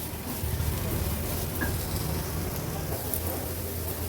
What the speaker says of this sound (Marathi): आता ही चटणी आहे ना, तेलावर आपल्याला थोडीशी परतून घ्यायची आहे